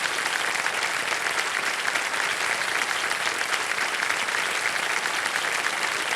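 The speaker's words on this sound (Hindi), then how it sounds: "तालियां बजती रहें" Studio audience applause on a quiz show after a contestant wins five lakh rupees, steady and dense from start to finish without pause.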